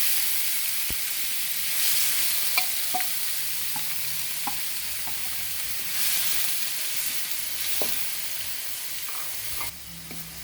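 Chopped onions frying in hot oil with reddened urad dal, a steady loud sizzle with occasional sharp pops and stirring scrapes, close and continuous with no talking.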